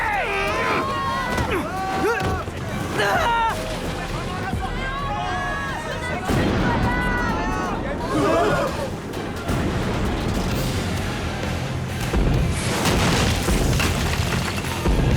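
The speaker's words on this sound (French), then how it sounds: "Ce type de canon ne peut pas viser sa cible avec précision" Heavy booms of anime cannon fire roll beneath French-dubbed shouting voices and crowd commotion, dense and loud throughout.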